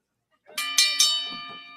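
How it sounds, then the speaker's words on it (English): A wrestling match bell at a live indoor show, struck three times in quick succession. The bright metallic rings overlap and fade slowly in a reverberant hall. "Referee AJ calls for the bell."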